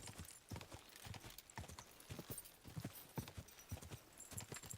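Rhythmic clip-clop of a horse's hooves in Kingdom Come Deliverance 2, a quick repeated trotting beat that stays quiet and fairly close, with no speech.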